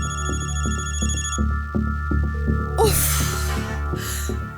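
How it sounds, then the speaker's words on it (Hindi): A telephone rings in repeated electronic bursts over a steady backdrop, with a brief breathy noise and rustle near the end. "फोन उठाओ आमिर"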